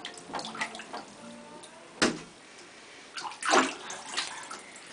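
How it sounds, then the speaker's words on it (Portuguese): A small child splashes in a home bathtub while sitting on a fixed bath seat, with close sloshing surges of water, two strong splashes standing out among lighter ripples and drips. "tomando banho na banheira da mamãe"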